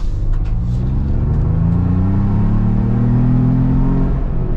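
A Ford Bronco Wildtrak Moab Edition with hard top accelerating hard, its engine a loud, steady, rising rumble with a climbing tone, heard from inside the cabin with no talk.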